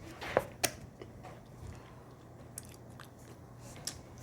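Bites into a dark chocolate bar, with two sharp crisp snaps near the start followed by quieter chewing and a few faint clicks, close up and with no talking.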